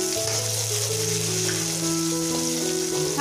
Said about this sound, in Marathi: हा कांदा आपल्याला थोडासा लालसर कलर येईपर्यंत तळसून घ्यायचा आहे।